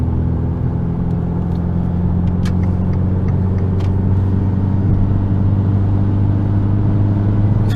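A small turbocharged Abarth 500 engine drones steadily at full throttle in fifth gear, a loud continuous rumble with a low whir throughout, close and unbroken.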